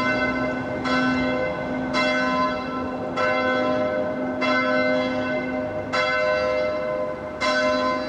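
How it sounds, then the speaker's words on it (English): A peal of church bells rings out repeatedly in a steady rhythm, each strike blooming into a long, overlapping resonant hum. "Sounds like we've got bell ringing practice."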